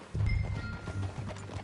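Horse hooves clip-clopping in Red Dead Redemption 2 on a ride past a saloon, a soft steady rhythm of low thuds at moderate distance, with faint ambient noise behind.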